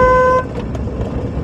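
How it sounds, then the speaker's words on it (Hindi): A car horn gives one steady, fairly loud honk in traffic and cuts off abruptly. The engine and road noise continue underneath afterward. "एक बार उसको और हॉर्न बजा दो जिससे दरवाज़ा बंद कर दे"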